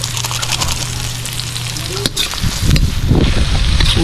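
Milkfish (bangus) sautés with black pepper in a hot pan, a loud steady sizzle with stirring, the frying growing stronger toward the end.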